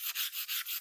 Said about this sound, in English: so I'm going to take some 220 sandpaper and then just go over it.